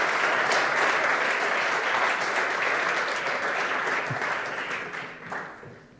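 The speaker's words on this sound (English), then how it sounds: "And a round of applause for them." Audience applause at a startup presentation event, steady dense clapping filling the room and gradually fading toward the end, with no talk over it.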